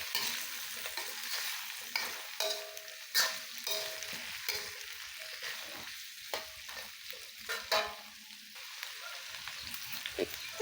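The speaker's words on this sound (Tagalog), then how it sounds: "ilagay na din natin ang hiniwang patatas. Ayan, gisayin lamang natin yan." Sliced potatoes sautéing for pork adobo, a steady close sizzle and frying hiss with repeated stirring scrapes and clinks of a utensil against the pan throughout.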